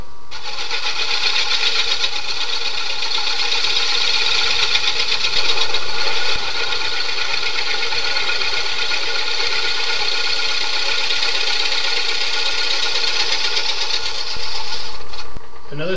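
A wood lathe spins a large serving bowl while a tool gently cleans up the tenon, giving a continuous loud rushing whir that holds steady for about fifteen seconds with no talk over it.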